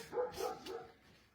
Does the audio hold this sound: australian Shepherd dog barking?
yes